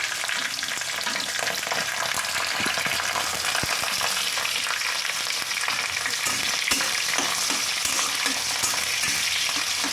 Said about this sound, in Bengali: তখন আমি এই মোটা মোটা করে কাটা পেঁয়াজগুলো দিয়ে দেবো